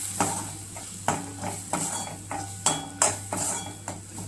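A spoon stirs tomato chutney with sugar in a pan, giving repeated scraping clinks at an irregular rhythm against a faint steady hum, close and fairly quiet.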